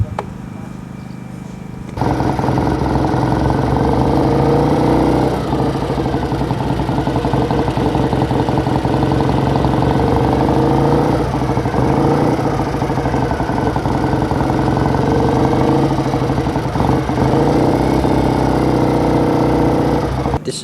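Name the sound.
1957 BSA Rocket Gold Star motorcycle engine idling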